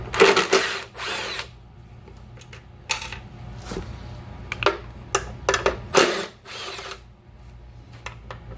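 A power drill or impact tool spins off a 10 mm ground-strap bolt on an e46 car during an electric conversion, in several loud short bursts separated by quiet pauses, with no talking.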